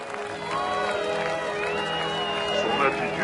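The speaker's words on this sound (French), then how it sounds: "On l'applaudit bien fort." An audience applauds Audrey with loud, sustained clapping and cheering, steady for the whole stretch, with a tonal musical bed mixed underneath.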